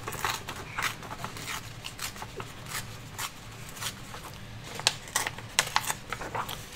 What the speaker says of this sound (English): Tear it like this